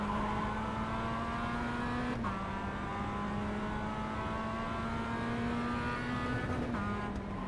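A race car in the iRacing sim brakes hard into a turn, its engine a steady, buzzy drone with quick downshift steps in pitch, with no talk over it.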